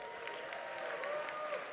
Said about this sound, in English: let's give these guys a round of applause there